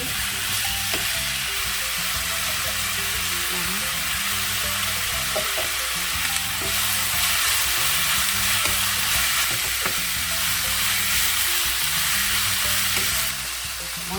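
Eggplant and onion stir-frying in a pan give off a loud, steady sizzle for the whole stretch, with light scraping and tapping from stirring now and then and no voices.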